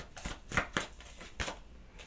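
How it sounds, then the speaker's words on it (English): Tarot cards are shuffled quietly nearby in a few short riffling bursts with brief pauses between them. "One more shuffle, please."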